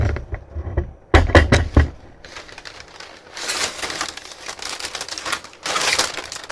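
Packing paper from an unboxing of merchandise crumples and rustles close by, with sharp crinkling bursts at first and then longer, softer stretches of rustling, and no talking.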